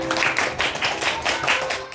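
Classroom applause for a student presentation group, a few seconds of brisk, moderately loud clapping from a small group with rhythmic bursts.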